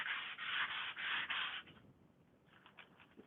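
Fine-grit sandpaper, around 320, rubbed by hand in a craft setting: five or six quick, close, soft rasping strokes in a steady rhythm, then a pause and a few lighter scuffs.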